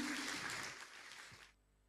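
A church congregation applauds loudly in a dense, sustained burst of clapping that fades out after about a second and a half, leaving near silence.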